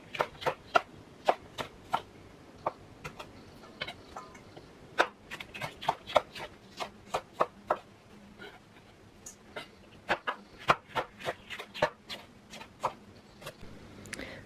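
A knife chops jalapeno peppers on a cutting board in irregular bursts of sharp clicks and taps, close and moderately quiet, with short pauses between runs.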